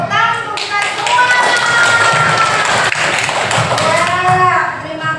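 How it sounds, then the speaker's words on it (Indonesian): A class of schoolchildren claps in a classroom, a steady burst of close applause under cheerful voices and a teacher speaking. "Tepuk tangan untuk kita semua."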